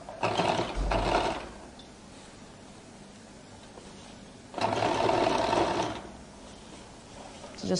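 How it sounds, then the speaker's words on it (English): A sewing machine top stitches the lining of a flared skirt in two bursts of steady, whirring mechanical running, separated by a quieter pause of background hum. "So I'll top stitch on the lining."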